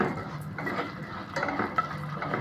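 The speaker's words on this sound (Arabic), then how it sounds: "اول حاجه هننزل بيها وهي الشعريه زي ما انتم شايفين كده، نفضل نقلب فيها لحد ما تتحمر" Vermicelli stirred as it fries in a pot for Egyptian koshari: a steady scraping, rustling sizzle with soft spoon knocks against the pot, close and continuous, no voices.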